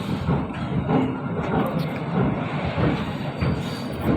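A night train pulls into platform six of a station on the Dehradun to Amritsar route, its steady rumble and rolling wheel clatter continuous and close throughout.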